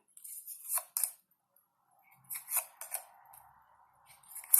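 Soft, crisp bursts of tarot cards being shuffled, a few quick riffles with short pauses between them, close and quiet.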